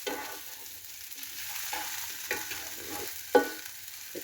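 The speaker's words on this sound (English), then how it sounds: "Very quick to cook in the electric pan" Eggplant frying on medium heat in a wide electric pan, stirred with several soft scraping strokes over a quiet, close sizzle, ending in one sharper clink, with no talking.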